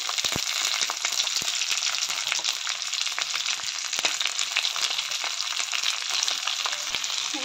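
Chopped onions frying in oil with garlic, ginger and cumin, a loud close sizzle with sharp crackles and pops spread evenly across the whole stretch, no voices.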